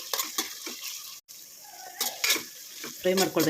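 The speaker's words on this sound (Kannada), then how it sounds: "ಈಗ ಸ್ವಲ್ಪ ಹಸಿ ವಾಸನೆ ಹೋಗೋವರೆಗೂ ಇದನ್ನು ಫ್ರೈ ಮಾಡ್ಕೊಳ್ಬೇಕು" Onion, green chilli and ginger garlic paste frying in a pan, with a soft sizzle under intermittent stirring and utensil clinks against the pan, close and moderately loud.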